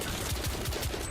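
Rapid gunfire from a weapon in The Order: 1886, set in Victorian London, a quick burst of several close, loud shots in steady succession.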